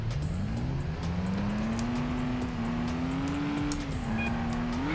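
A car in the PS2 game Stuntman does a 180 handbrake turn, with a loud, continuous engine drone that rises in pitch and a long tire squeal over faint game sounds.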